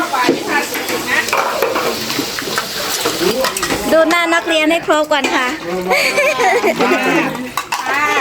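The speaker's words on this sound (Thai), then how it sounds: "วันนี้สอนวิชาล้างจานนะคะ" Dishes being washed after a meal at a temple gathering, with clattering plates and splashing water mixed under someone talking over a busy background.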